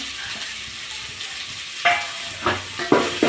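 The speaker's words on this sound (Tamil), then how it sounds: "கருவேப்பிலை, வெங்காயம்லாம் அதெல்லாம் போட்டு நல்லா வணக்கிக்கலாம்" Curry leaves and small shallot onions sautéing in oil for fish curry: a steady close sizzle, then a few sharp spatula scrapes and bursts of frying toward the end.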